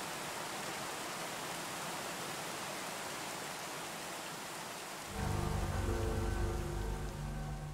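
Rain in the video game Moth House, a constant hiss that continues, then joined midway by a louder tonal, humming layer over the downpour.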